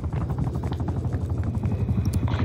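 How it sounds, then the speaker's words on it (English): An enemy attack helicopter in the Call of Duty Black Ops Cold War video game: a loud, steady, pulsing rotor thump and engine roar that drones throughout. "Z-trap, enemy attack helicopter above."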